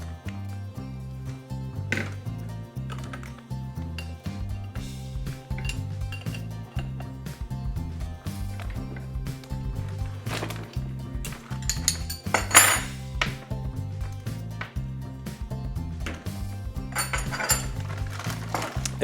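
A spanner works on a section of a Sanique S3 sanitising sprayer, giving repeated metallic clinks and scrapes with ringing tones, close and irregular, some sharper knocks standing out, with no voices.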